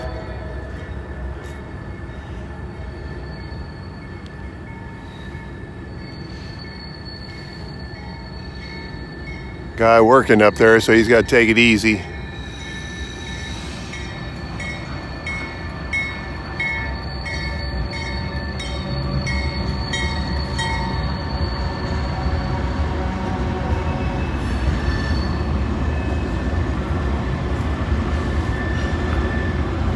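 A Norfolk Southern freight train rumbles across the long Kenova Bridge over the Ohio River at slow speed, a steady broad roar with tonal squeals and a loud burst of clanking midway, while someone talks over it.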